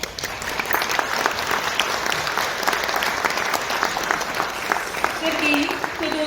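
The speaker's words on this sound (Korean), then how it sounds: "박수, 큰 박수 부탁드립니다." Audience applause at an international academic forum in a Seoul hotel ballroom, a steady dense clapping from a large seated crowd lasting several seconds, even in level and fairly loud.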